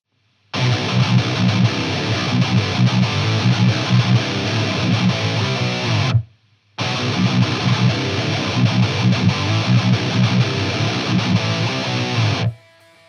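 An electric guitar plays through the red channel of an EVH 5150 III LBX amplifier, with no overdrive pedal, in two loud, continuous passages separated by a brief silence, with a full, driven tone.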